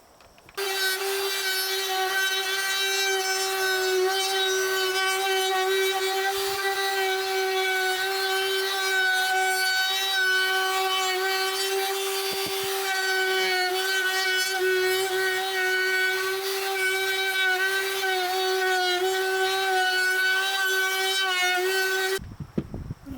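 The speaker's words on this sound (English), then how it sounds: "I'm just taking this trim router" A trim router fitted with a quarter-inch round-over bit shapes the edge of a wooden puffin push toy, its motor holding one loud, steady high whine for about twenty seconds before cutting off.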